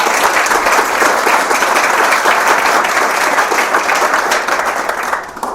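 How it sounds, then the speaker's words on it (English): Loud, dense applause from a large audience at a dinner event, sustained for several seconds before beginning to thin out at the end. "Let's give them a round of applause."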